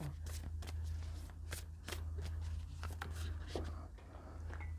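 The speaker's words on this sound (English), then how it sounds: "I dropped a card." Tarot cards riffled and shuffled by hand, with quick papery flicks and slaps running through the whole stretch over a steady low hum, close and moderately loud.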